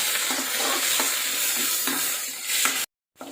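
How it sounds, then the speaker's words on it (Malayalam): Spinach and curry leaves sizzle and fry in a pan while being stirred, making a close, steady crackle with faint scraping strokes, and the sound cuts out briefly near the end. "ഇതൊന്ന് വഴറ്റിയെടുക്കാം നന്നായിട്ട്"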